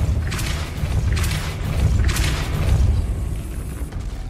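A magical Depulso spell effect from a Harry Potter video game, three whooshing bursts with low booming rumble, loud and close, with no talk.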